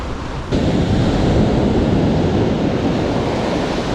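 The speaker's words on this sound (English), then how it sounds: "that swell's bigger than I was expecting" Sea swell breaking on a beach at high tide, a loud continuous roar of surf with wind buffeting the microphone and no voices.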